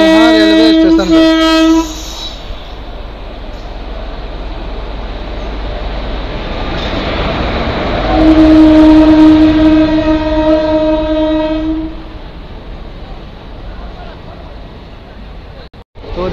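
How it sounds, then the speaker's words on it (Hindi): Kosi Super Express, a train from Patna Junction to Ranchi Junction, arriving at Fatuha railway station: loud sustained multi-tone horn blasts, one at the start and a longer one in the middle, over steady rolling rumble with station bustle and voices. "इनकी अराइवल हो चुकी है फतुहा रेलवे स्टेशन पर।"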